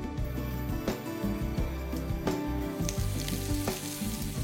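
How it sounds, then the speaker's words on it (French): Prawns frying in olive oil in a pan, a close, lively sizzle with repeated crackling pops and a few sharp spits over a steady hiss. "Poêlez les gambas dans un filet d'huile d'olive"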